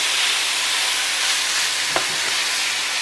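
Meat browning in a pan for hachis parmentier, a steady close sizzle and fry running throughout, with one brief stir or scrape near the middle.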